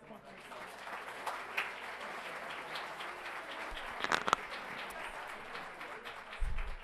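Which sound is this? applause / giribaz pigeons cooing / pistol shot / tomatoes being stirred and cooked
applause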